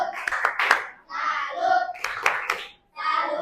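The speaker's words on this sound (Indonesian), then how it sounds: "Tepuk tangan buat anak Dian" A classroom of children clap their hands in short, uneven bursts during an Islamic religious education lesson on zakat and infaq, with pauses between rounds and children's voices mixed in.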